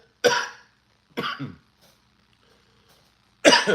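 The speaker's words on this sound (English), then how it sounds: "is this cough because I'm human and I'm holding the smoke in my lungs?" A person coughs after holding smoke in the lungs, three harsh, close bursts, two near the start about a second apart and a final louder one after a quiet pause, with silence between.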